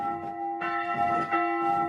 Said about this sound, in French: Et l'on entend la cloche